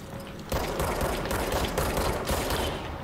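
Rapid automatic gunfire rings out in the video game Control as a dense, sustained burst of shots. It is loud and continuous for a few seconds, with no talk over it.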